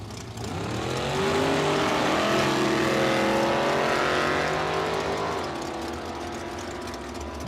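Drag race cars at a bracket racing event, a 1960 Chevy II and a Camaro, launch off the line together with a loud rising engine roar that swells and holds, then eases as they pull away.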